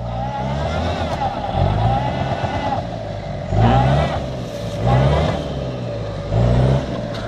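A Toyota Land Cruiser LJ70 with a turbo engine rumbles off-road at low speed, steady and close, with three strong surges of revving as the wheels spin up, under occasional voices in the background.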